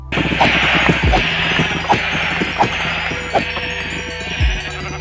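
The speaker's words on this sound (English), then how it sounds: "And then I start shearing some sheep" Sheep in a hardcore survival video game bleat repeatedly while being sheared, several short overlapping bleats over a steady mechanical hum, with a few low thuds between them.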